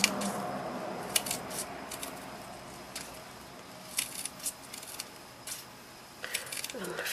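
Scissors snip into thin strips of cardstock for punch-art flowers, a few sparse, faint cuts spaced over several seconds in a quiet room.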